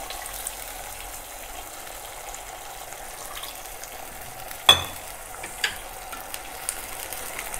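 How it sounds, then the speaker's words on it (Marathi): About 1-2 tablespoons of water poured into Gobi Manchurian sauce with tomato sauce, hissing in a hot pan: a steady low frying sizzle broken by one sharp burst of steam partway through, then a few small pops. "1-2 टेबलस्पून पाणी ओतूया"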